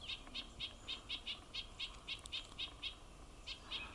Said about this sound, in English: This is an excited bird. It heard what it thought was another nuthatch.